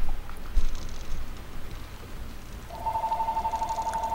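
A telephone rings in a room during a Limbo gaming session, its steady repeating electronic trill starting partway through and pulsing evenly over faint background noise until the end.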